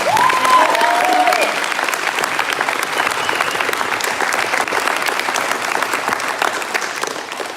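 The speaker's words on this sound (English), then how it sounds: "Let's give them one more big round of applause." A large crowd at a high school performance gives a big round of applause, loud and sustained, with a brief whoop or shout near the start before the clapping settles into a steady roar.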